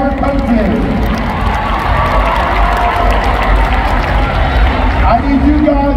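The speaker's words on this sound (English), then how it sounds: "really give a round of applause for the people who helped make this happen" Loud, steady crowd roar at a national cheer competition in a Dallas arena, dense cheering and clapping filling the full six seconds, with a voice calling out over the noise.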